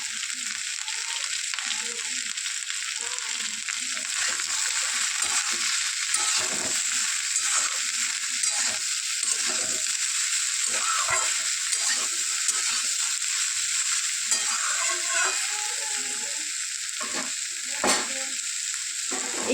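Bitter gourd, potato and eggplant frying in a pan with a steady bright sizzle, while a spatula stirs them in irregular scraping bursts throughout, close and fairly loud, no voices.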